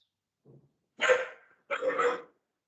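A dog gives two sharp barks close by, preceded by a faint short whine.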